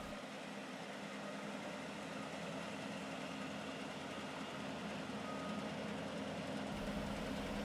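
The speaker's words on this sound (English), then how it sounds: "Nothing says it's fall in the Midwest quite like the sound of a combine in the field." Steady, continuous droning of a combine harvester working a Midwest field in fall, a constant engine hum with no pauses and no voices.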